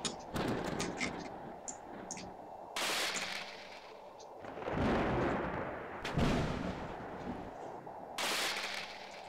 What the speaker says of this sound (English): how about I shoot this gun at you?